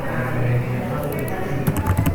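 Someone types calculator code on a computer keyboard, a light patter of key clicks that grows busier near the end, heard under a man's speech.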